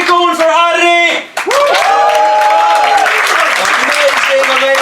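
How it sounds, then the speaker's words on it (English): A comedy club crowd in Helsinki breaks into loud, sustained applause, with shouted voices and whoops ringing out at the start and over the dense clapping. "Hey, keep it going for Harry!"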